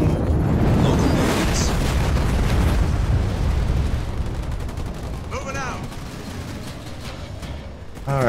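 Artillery fire and explosions from the real-time strategy video game Halo Wars 2 on Legendary difficulty, a dense continuous roar of booms and gunfire with synthetic whooshing effects near the end.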